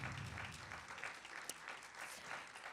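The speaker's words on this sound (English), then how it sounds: "please give another round of applause for the director, Nick Redding" Faint applause from a theater audience during a film Q&A for the director, a soft, even wash of clapping heard from a distance throughout.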